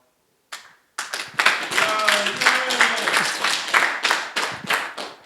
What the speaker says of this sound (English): Clapping for a guy I've never heard of.